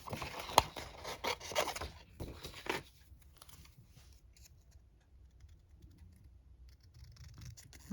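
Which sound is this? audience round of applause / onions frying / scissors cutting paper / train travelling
scissors cutting paper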